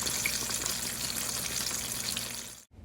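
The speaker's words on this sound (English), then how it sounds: "They're easier deep fried because you don't have to flip them." Fish sizzles steadily in hot oil in a deep fryer, a close, continuous hiss of frying that cuts off abruptly near the end.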